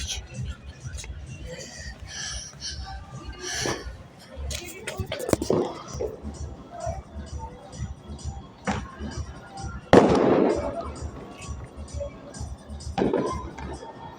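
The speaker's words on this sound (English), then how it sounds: "Rocket bomba." Rocket bomb fireworks go off outdoors, with scattered bangs and crackles at mid distance and one sharp, louder burst, while people talk throughout.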